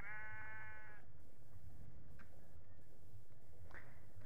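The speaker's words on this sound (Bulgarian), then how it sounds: "И както виждате, навсякъде има само овце." Sheep bleat in a Minecraft world during daytime, a clear harmonic bleat at the start followed by faint, scattered ambient sounds over a steady low background hum.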